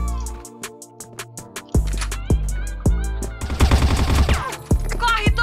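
Rapid gunfire in the video game CrossFire: loud automatic bursts and single heavy shots repeat close up over a constant in-game hum, with a player's voice briefly in the mix.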